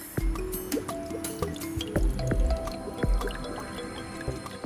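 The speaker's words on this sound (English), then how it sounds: "Gonna get this warm water and rinse it off." Hands and nails are rinsed under warm running water as part of a beauty routine, with close splashing, dripping and squishing sounds in uneven bursts.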